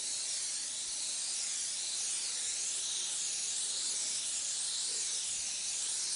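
Steady airbrush hiss spraying Snow White Pearl paint onto a Hummer for a flame design, a continuous close airy spray with no breaks and no voices.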